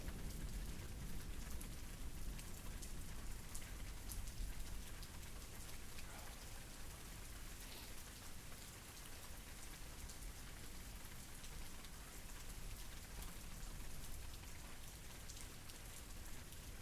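Steady rain falls outdoors for the whole stretch, a dense, even hiss of drops striking surfaces, loud and unbroken with no voices over it.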